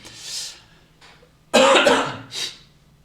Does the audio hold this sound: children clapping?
no